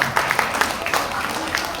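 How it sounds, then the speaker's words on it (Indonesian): Audience at a Buddhist temple talk claps together briefly, a dense patter of hands with speech mixed in underneath. "Tepuk tangan dulu."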